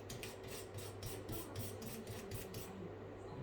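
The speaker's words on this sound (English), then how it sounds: "There's a lot of paint, excess paint on, so this will just scratch off." Excess paint being scratched off a wall around an electrical socket before wallpapering, heard as faint, rapid, rhythmic rasping strokes close by that stop near the end.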